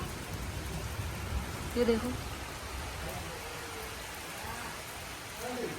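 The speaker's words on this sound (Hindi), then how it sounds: "फिर से बारिश आने लग गई है।" Steady rain patters as a soft, continuous hiss, with a person speaking briefly over it.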